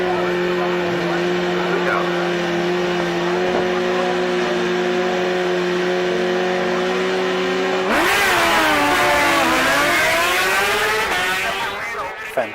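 Drag-strip engine roar from Suzuki and BMW drag motorcycles, a loud sustained high-revving whine that jumps into a harsher, rising howl as the bikes launch and accelerate down the strip, with commentary over it.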